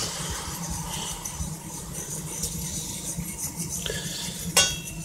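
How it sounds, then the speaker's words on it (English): Milk is stirred into a thickening white sauce, with a continuous low bubbling and scraping of a utensil in the pan and a sharp clink near the end. "So we take our milk, put in a little bit. Stir it up."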